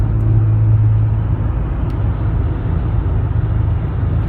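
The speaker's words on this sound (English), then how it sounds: "You can see some trucks driving past." Trucks pass on a Salt Lake City road, a loud, steady low rumble of engines and tires that holds throughout.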